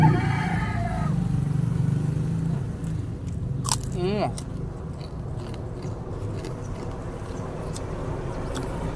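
A crispy fish cracker made with milkfish or tilapia crunches under a brief bite near the mic, set against a low steady background hum.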